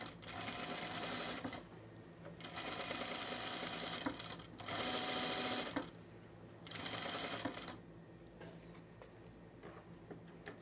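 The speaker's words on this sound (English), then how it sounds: "So let's just stay stitch this neckline." Sewing machine stay stitching a linen tunic neckline a quarter inch in, soft and fairly faint, running in several short bursts with brief pauses and a quieter tail.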